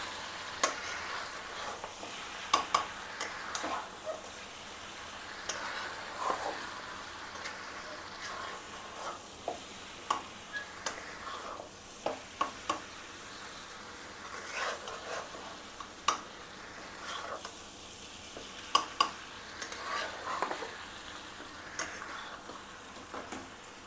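Chicken fry biryani being stirred in a pan: repeated sharp scrapes and taps of a utensil against metal at an irregular rhythm, over a soft sizzle, with no one talking.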